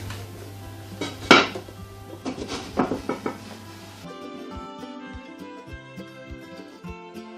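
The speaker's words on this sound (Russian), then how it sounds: "В нагретую форму перекладываем тесто, накрываем крышкой." Metal clanks and clinks as olive bread dough is moved into a preheated baking pan and a lid is set on top, a few sharp knocks up close followed by quieter handling.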